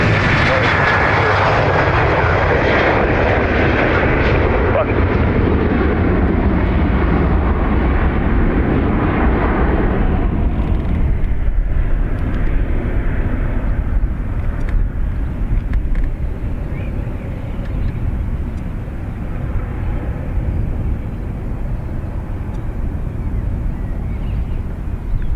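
A Ryanair jet's engines roar on the runway at Dublin Airport, a loud, sustained blast of jet noise that slowly fades as the aircraft moves away, with radio talk over it.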